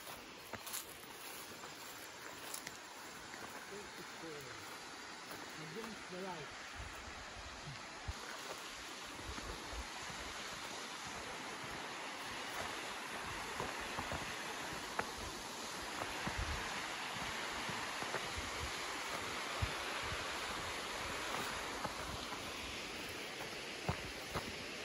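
Steady broadband rush of Tekip Falls, a waterfall in Bakun, Benguet, a continuous roar of falling water heard from a moderate distance with no voices.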